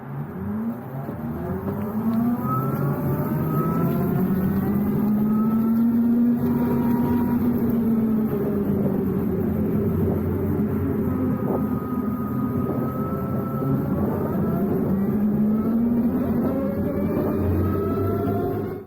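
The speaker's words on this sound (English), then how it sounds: "At this point, the motorcycle whirs to life." Harley-Davidson LiveWire electric motorcycle whirring to life, a steady rising and falling electric whine with road and wind noise, close and continuous for the whole stretch.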